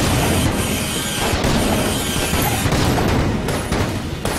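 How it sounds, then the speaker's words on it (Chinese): Ice block exploding in a bullet-hell dungeon shooter game, a dense roaring burst of noise that fills the whole moment, loud and continuous with crackling pops throughout. "冰块可以爆炸"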